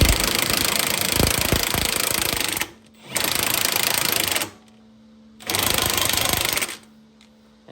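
A cordless impact wrench hammers at a sway bar end link nut on a car, firing in three loud sustained rattling bursts separated by brief pauses.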